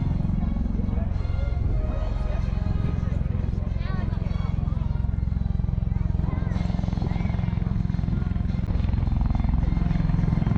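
An MV-22 Osprey tiltrotor aircraft landing at an airshow, a constant heavy rotor and engine roar from start to finish, with commentary heard over it.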